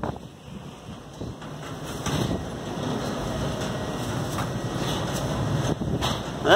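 Strong 35-40 mph wind gusting around wind turbines at night, a steady broadband roar with buffeting on the microphone that grows louder toward the end, with no voices.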